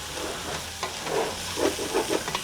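Cumin being stirred into a pot of sizzling chili: a steady frying hiss with spoon scrapes and soft stirring bursts recurring every fraction of a second, close and fairly loud.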